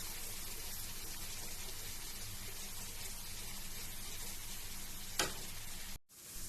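Seafood browning in a hot frying pan for a Cajun sauce gives a loud, dense, continuous sizzle, with one brief sharp click near the end before it cuts off abruptly; no one speaks.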